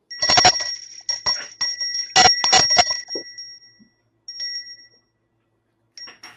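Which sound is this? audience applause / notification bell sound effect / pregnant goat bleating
notification bell sound effect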